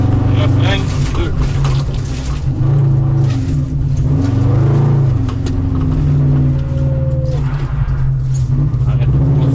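A rally car engine revs and accelerates hard and close, with a sustained, shifting roar and pitch sweeps. A co-driver's voice appears to speak over it.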